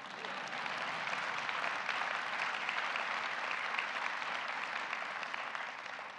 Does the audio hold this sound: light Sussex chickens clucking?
no